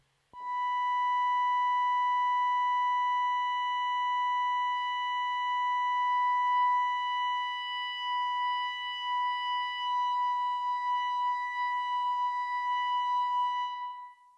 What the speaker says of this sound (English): we get some phasing effects as our oscillators are beating against each other because they're not at exactly the same frequency